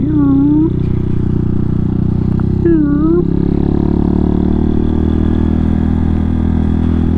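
Hawk 250 motorcycle riding on a gravel road, a steady droning engine hum with a loud rising-falling whine twice early on, continuous and close throughout.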